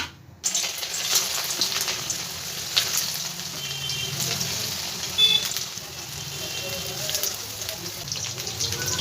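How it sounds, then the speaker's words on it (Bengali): Pieces of lentil barfi fry in hot white oil in a kadai, giving a soft, steady sizzle that runs through the whole clip with faint kitchen noise. "এবার সব ডালের বরফিগুলো আমি ভেজে নেব।"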